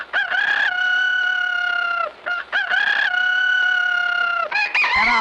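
A cartoon character imitates a rooster with loud, close, drawn-out cock-a-doodle-doo crows, repeated twice with short breaks. A clipped squawk ends it.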